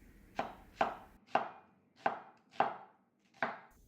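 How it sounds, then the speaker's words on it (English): A knife chops onions into quarter-inch strips on a cutting board, six crisp close knocks at an uneven, unhurried pace, with quiet between strokes. "these are onions for my seaweed soup. Just cut them into a quarter-inch thick strips."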